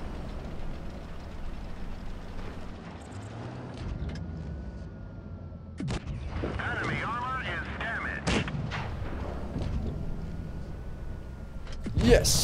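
Heavy tank cannon shots in World of Tanks Blitz, a tier 8 KV-4 taking fire through buildings, heard as several sharp booming blasts spread across the stretch over a steady rumbling engine and battle bed.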